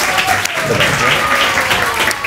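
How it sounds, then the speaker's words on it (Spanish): A studio audience at a Spanish television show applauds loudly for guest Nyno Vargas, a dense continuous roar of clapping that holds steady throughout. "Fuerte el aplauso para él"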